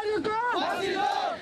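An angry crowd protests on a street in New Delhi, raised voices shouting together in a loud, close, continuous cry.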